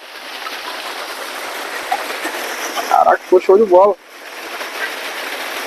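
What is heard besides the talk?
small waterfall from a pipe at a campsite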